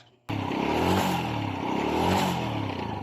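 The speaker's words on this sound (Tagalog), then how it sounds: "balik sa bago na o dati ang tunog ng kanyang makina" A Honda Wave 100 motorcycle engine, freshly repaired after a noisy stalling fault, fires up after a brief quiet start and runs steadily at a close, loud idle with an even rhythmic putter and no talking over it.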